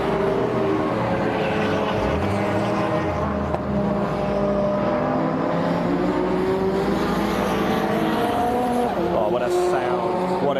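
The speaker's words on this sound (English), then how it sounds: "What a noise, the car's rumbling around Brands Hatch Indy." Saloon and touring race cars rumble around the Brands Hatch Indy circuit during qualifying, with a steady, loud engine drone and engines rising and falling as cars pass, while a commentator talks over it throughout.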